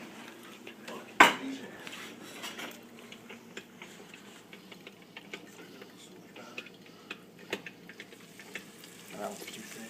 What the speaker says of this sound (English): We ready for frying?